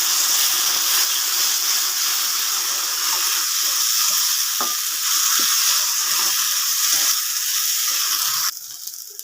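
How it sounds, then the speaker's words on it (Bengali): Ground spices, turmeric, mustard paste and ginger, frying lightly in a pan: a steady hissing sizzle with faint stirring taps, dropping quieter just before the end. "মশলাটা হালকা করে ভেজে নেব, কারণ সরিষা আর আদা খুব বেশি ভাজতে লাগে না।"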